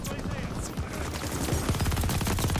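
An MG42 machine gun fires in Call of Duty Vanguard with rapid, continuous bursts. Dense rattling fire with other shots mixed in runs loud throughout the short stretch.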